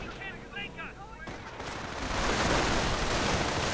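Bursts of rifle and machine-gun fire with grenade blasts rise into a dense, loud battle din in a WWII strategy video game, following a voice at the start.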